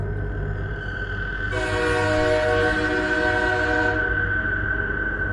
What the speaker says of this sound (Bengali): দূরে ট্রেনের হুইসেল শোনা যাচ্ছে এবং ট্রেনের লাইট দেখা যাচ্ছে